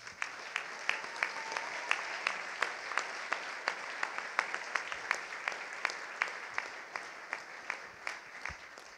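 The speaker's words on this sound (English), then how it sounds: "Now we can applaud." Sparse, rhythmic clapping from a small audience at a bushcraft gathering, steady individual claps repeating through the whole stretch at moderate distance, no voices.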